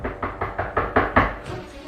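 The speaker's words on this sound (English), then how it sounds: "Suddenly, someone knocked on the door." A series of seven firm knocks on a door, evenly spaced and close, ringing out alone before a short pause.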